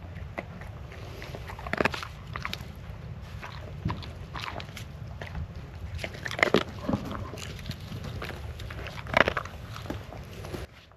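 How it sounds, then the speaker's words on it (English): A corgi crunches and chews on something outdoors in early March at a hot-tent campsite, with repeated close, crackly bites coming in uneven bursts. "Crunch, crunch. Goes the wild corgi."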